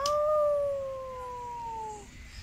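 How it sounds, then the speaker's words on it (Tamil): A single drawn-out dog howl, fairly faint and distant, gliding slowly downward over a couple of seconds against a quiet background. "நாய் உள்ள விடுற சத்தம்லாம் கேக்குது"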